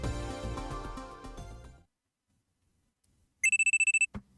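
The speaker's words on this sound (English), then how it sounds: "a loud alarm rings in my ears" A loud electronic alarm in the video game Steins;Gate Elite sounds as a quick burst of rapid, evenly spaced shrill beeps after music cuts to silence, ending with a short thump.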